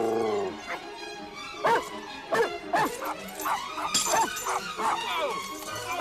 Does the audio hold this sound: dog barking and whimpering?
yes